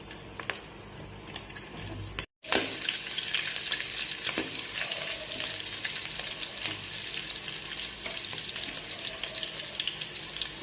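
Green chillies sizzle and crackle steadily in hot oil for egg fried rice, a continuous close frying hiss after a brief silent gap, with occasional stirring.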